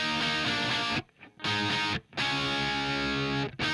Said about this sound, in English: this is what the Marshall sounded like